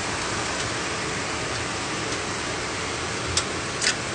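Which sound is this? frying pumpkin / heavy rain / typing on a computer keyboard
heavy rain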